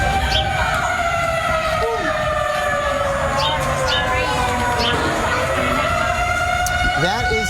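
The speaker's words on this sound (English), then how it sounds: "And there's the sound of the siren." Tornado warning siren near Ellis, Mississippi: a loud, sustained wailing tone that slowly bends in pitch, steady throughout with rumbling wind-like noise beneath and faint background voices.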